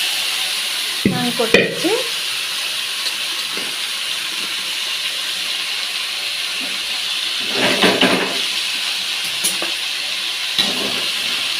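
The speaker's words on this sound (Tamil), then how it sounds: "ஒரு ஃபேனில் கடாயில் எண்ணெய் ஊற்றி கடுகு போட்டு" Mustard seeds sizzle in hot oil in a kadai, a steady frying hiss with a few clattering stirs and bursts of crackle, while a voice speaks briefly near the start.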